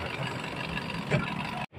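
A Mitsubishi Strada pickup engine idles roughly with a misfire and its check-engine light on, making a steady close drone that cuts out abruptly just before the end, then resumes quieter.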